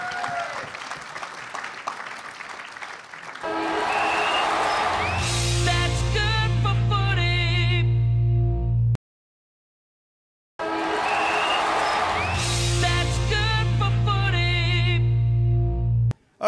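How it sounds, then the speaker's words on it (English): Audience applause swells into dense, sustained clapping over music, cuts off abruptly, then returns just as full before ending suddenly. "Give them a round of applause, everyone."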